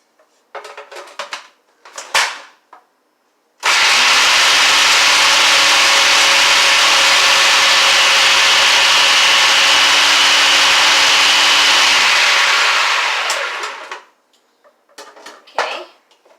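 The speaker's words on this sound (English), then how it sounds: "we need 1 cup of walnuts, but we want to grind them up very fine. So I'll put those in the food processor." Food processor grinding walnuts very fine, a loud close motor roar with grinding rattle lasting about nine seconds before spinning down, framed by short clatters of handling before and after.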